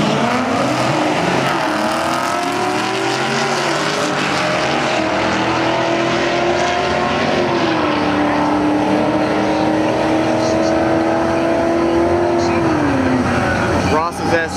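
A Chevrolet SS Camaro drag racing at Dallas Raceway, its engine roaring loud and steady with rising gear-change sweeps and a long sustained pull, while people talk over it throughout.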